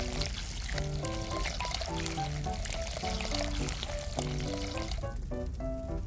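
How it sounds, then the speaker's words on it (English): Jam being poured into a pot in a miniature kitchen: a continuous wet pouring and sizzling texture runs the whole time under a bright melodic music backing, with no talk. "Let's pour the jam into the pot."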